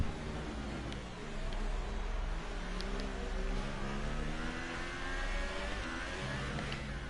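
An F1 car engine in the racing game F1 2018 drones steadily at a constant, moderate level, with a low harmonic hum and no breaks, and no one talks over it.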